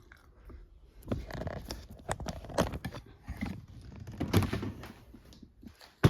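The top drawer of a makeup and jewelry organizer slides open, with several soft thunks and rattles of the contents up close.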